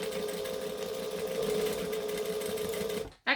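A sewing machine running fast and steady as it stitches fabric, a close, continuous whirring buzz that cuts off abruptly near the end, followed by a short burst as it starts again.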